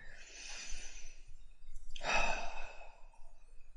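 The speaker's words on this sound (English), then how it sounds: "take a deep breath with me now." A deep breath taken slowly in and then released in a long, audible sigh, close and alone with no talking, the exhale louder and breathier than the inhale.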